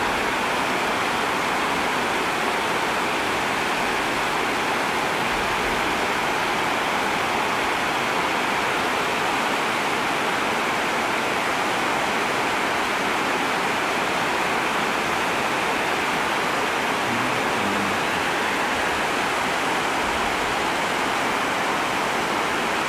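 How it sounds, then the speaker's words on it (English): River rapids on the Chilliwack River, about 10 km out of Chilliwack, give off a steady, dense rushing roar of whitewater that continues unbroken and loud throughout, with no talking. "These rapids are about 10 kilometers out of Chilliwack."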